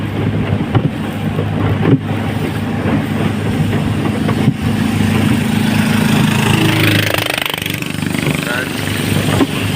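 A loud, steady motorboat engine drones close by with a low rumble, mixed with wind and choppy sea water noise and a voice talking over it.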